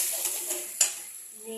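A spice paste thinned with hot water is stirred in a pot with rice, potato and cauliflower, producing soft scraping and a light sizzle, with one sharper clack of the utensil midway.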